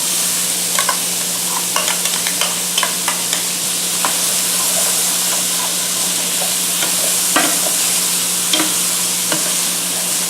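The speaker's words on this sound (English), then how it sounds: "Stir it in." Slices of large yellow onion stirred into a hot pan for shrimp and grits, giving a loud, steady sizzle broken by scattered clicks and scrapes of the spoon, with no talking.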